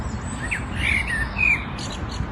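Birds in trees in Burbank call with short, high alternating whistles mimicking a two-tone siren, a few bright notes sounding over a low background rumble.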